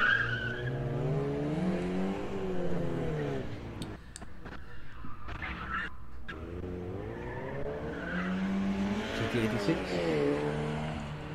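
A Toyota GT86 skids through a gymkhana test at a motor club event, its engine revving and tires squealing in long rising and falling sweeps, loud and close, with a short gap midway and voices talking over it.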